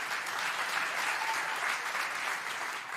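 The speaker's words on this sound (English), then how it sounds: "round of applause" Conference audience claps steadily for about three seconds, an even, moderately loud burst of applause with no break.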